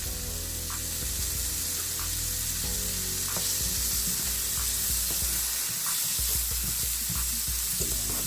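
Butter and minced garlic sizzling alongside a well-done steak in a pan, a loud, close, unbroken spitting sizzle lasting several seconds, with faint clinks beneath and no speech.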